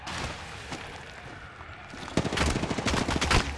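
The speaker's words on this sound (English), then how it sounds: "Taking fire." Video game gunfire starts as scattered shots, then breaks into a loud, rapid burst of automatic fire in the second half.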